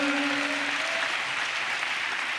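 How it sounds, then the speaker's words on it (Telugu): Church congregation clapping together in a steady, dense wash of applause that holds evenly throughout, with a brief sustained tone ringing underneath at the start. "చప్పట్లు కొడితే యేసయ్యకు స్తోత్రాలు చెప్దాం."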